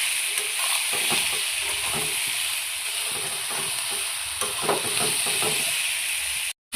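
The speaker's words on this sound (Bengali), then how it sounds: "এখন আগে থেকে ম্যারিনেট করে রাখা সয়াবিনটা দিয়ে দিচ্ছি" Marinated soybean chunks fry in a pan with a constant, close hiss and a soft pattering of stirring throughout, cutting off abruptly at the end.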